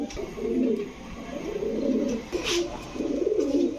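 Pet pigeons, including Teddy, Lahori and racer breeds, coo in close, repeated rolling bouts, with about three swelling phrases and small rustles between them.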